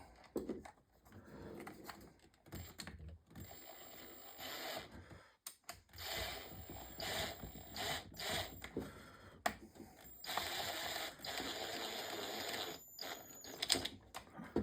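Screws are tightened on an Egan performance filter kit fitted to a Stihl 362/400 chainsaw, giving faint, close, irregular ratcheting clicks and small mechanical taps with brief pauses between bursts.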